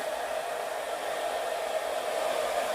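A Chi Dura Handshot handle-free hair dryer runs steadily up close with a constant loud whoosh and whine that holds unchanged throughout, with no voices.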